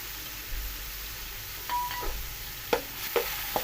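Garlic-ginger paste hits a hot pan for matar pulao, a low, quiet sizzle with a few soft scraping and clinking strokes of the spoon as it is stirred.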